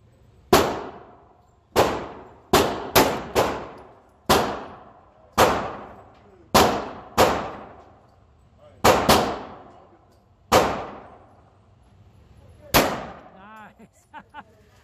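Sharp, loud gunshots from a 9mm pistol at a shooting range ring out in an irregular series of about a dozen cracks, each with a short decaying echo.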